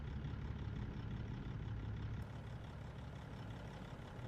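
A truck engine idles nearby in American Truck Simulator, a steady low rumble that holds continuously without any talking over it.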